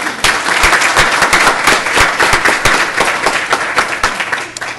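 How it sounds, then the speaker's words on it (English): A school board meeting audience applauds an individual being introduced, steady dense clapping with sharp individual claps standing out, fairly close and loud, lasting the whole stretch without talk. "it's our right to applaud individually"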